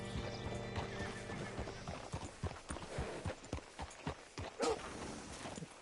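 A horse's hooves clip-clop in Red Dead Redemption 2, a steady run of close, distinct hoofbeats over game music and ambience, with a brief whinny mixed in.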